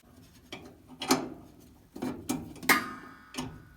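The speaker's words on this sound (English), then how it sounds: "So get a 3/8 wrench," A 3/8 wrench loosening a nut on the gas valve of a GE dryer during a natural gas to LP conversion, giving a few faint, close metallic clicks and ratcheting ticks spaced irregularly.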